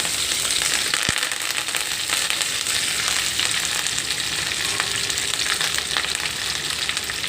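Curry leaves frying in a little oil for a curry leaf pickle: a dense, steady crackling sizzle runs throughout, close and constant, with one sharp knock early on.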